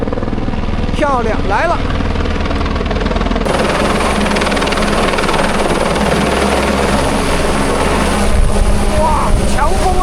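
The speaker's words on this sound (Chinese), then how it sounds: "那么我们这个直升飞机呢" A helicopter flies past close overhead in the mountains, its loud, steady rotor and engine roar filling the air throughout, with brief excited voices over it.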